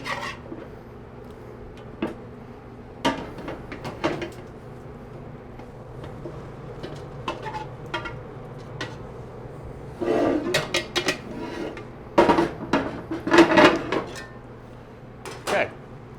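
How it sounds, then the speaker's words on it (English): Mirepoix vegetables go into a stock pot with bones, heard as scattered close knocks, scrapes and clattering handfuls against the pot, with a louder cluster of tumbling pieces toward the end. "And add the remaining mirepoix or vegetables to the pot."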